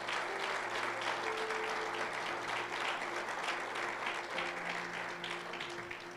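Steady, loud applause from a church congregation fills the whole stretch, dense clapping continuing evenly with a faint sustained tone underneath.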